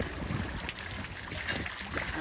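A water feature on the Garonne quay at Tonneins trickles softly and continuously, a faint, even splashing wash heard from close by with no voices over it.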